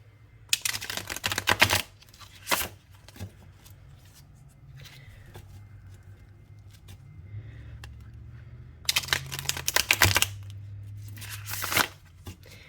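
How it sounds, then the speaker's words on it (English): Tarot cards are shuffled in quick bursts, crisp riffling flurries separated by quiet pauses, with a low hum running underneath. "Okay, let's shuffle this deck."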